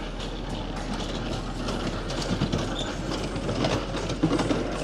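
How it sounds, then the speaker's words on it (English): A train rolls past in a busy outdoor entertainment district at Icon Park, its steady rumble and mechanical rattling mixed with crowd ambience, with faint squeal-like tones near the end. "Watch it, the train."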